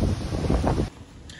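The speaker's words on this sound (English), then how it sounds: "Supposed to be up to 60 miles an hour winds." Gusty outdoor wind, with gusts up to 60 mph forecast, pounds the microphone with a loud low rumble that cuts off abruptly near the end and leaves a faint hush.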